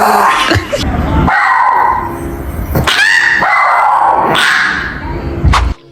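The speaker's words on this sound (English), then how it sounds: "These dogs can make the weirdest sounds." A dog close by makes a run of odd, strained vocalizations, whining yelps and yippy barks with drawn-out, almost human-sounding moans, several separate outbursts in a row with brief pauses.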